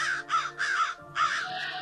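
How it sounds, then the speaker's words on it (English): A crow gives four harsh caws in quick succession, loud and close, each a short rasping burst with brief gaps between. "crows sound like this"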